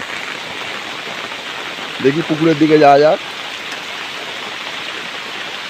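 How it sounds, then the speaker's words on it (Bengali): Heavy rain hisses steadily throughout, with a person speaking briefly partway through. "তা বন্ধুরা প্রচণ্ড পরিমাণ বৃষ্টি হচ্ছে"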